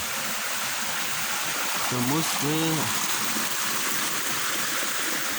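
Floodwater from a swollen, overflowing river near Ciputat rushes steadily in a broad hiss, with someone briefly speaking over it.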